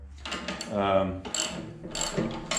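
A homemade flywheel log splitter runs with direct drive through a pulley and belt and no clutch, giving a steady mechanical whir with ratcheting, rattling bursts that swell and fade across the clip.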